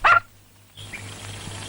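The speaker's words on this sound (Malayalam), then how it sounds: "ഒരു പന്ന പട്ടി പെറ്റ് കിടക്കുക." A dog that has just given birth lets out a single sharp, loud bark right at the start, followed by quiet room tone and a faint low hum.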